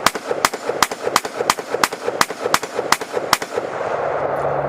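An M1 carbine fires a rapid string of about ten loud, sharp rifle shots at an even rhythm, then falls silent as a low hum remains.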